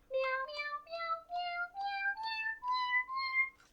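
A cat keyboard plays a rising scale of seven or so sampled meows, each a clear tonal note stepping upward in an even rhythm, alone and fairly loud.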